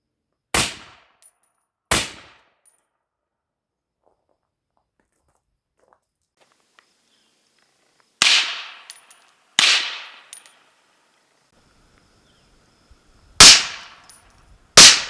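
.308 M80 ball full metal jacket rounds fired from a POF Rogue rifle with a 16-inch barrel into logs outdoors: six sharp, loud cracks, some in quick pairs, separated by long silences.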